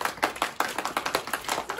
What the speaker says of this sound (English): what if we all clap our hands together?